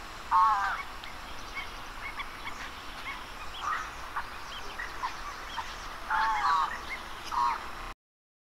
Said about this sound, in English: Here's the call of the scarlet ibis.